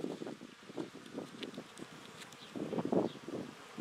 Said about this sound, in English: And you will see bees are sitting here carefully.